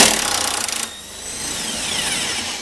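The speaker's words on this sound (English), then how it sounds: "Some kind of air tool or electric tool." An air or electric impact tool rattles in a short loud burst while loosening a 17 mm bolt on a Honda car, then gives way to a lower whirring hum.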